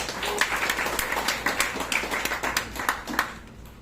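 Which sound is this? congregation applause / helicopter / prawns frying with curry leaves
congregation applause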